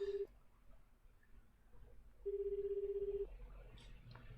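A telephone in the 428: Shibuya Scramble video game sounds a brief tone, then a steady ringback tone pulses for about a second, followed by faint scattered clicks over a low background hum.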